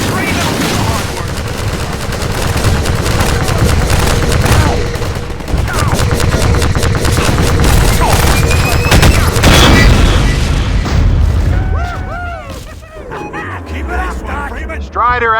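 Gunfire in Half-Life 2 Episode 2 near a sawmill during a Strider fight, with dense bursts of loud automatic weapon fire and heavy booms that fade out near the end, leaving scattered alien chirps and squeals.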